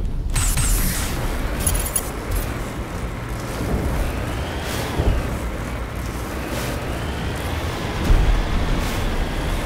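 Mako armored vehicle from Mass Effect rolling along, a steady loud engine rumble and road noise throughout, with a few louder surges near the end.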